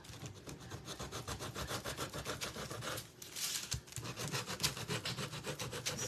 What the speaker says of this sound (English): Just gonna sand around her edge of her face.